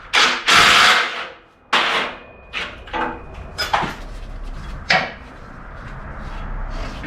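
Metal spring plate covers on a VW Baja Bug are beaten off with sharp, irregular clanking impacts, several loud strikes and scrapes spaced through the clip with a low rumble underneath.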